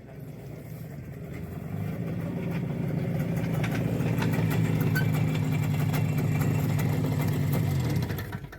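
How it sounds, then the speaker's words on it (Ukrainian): A motorcycle engine runs with a steady low chugging that swells and holds for several seconds, then drops off at the end. "Ти чув, які там звуки з мотора?"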